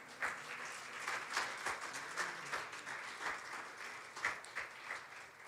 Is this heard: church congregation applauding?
yes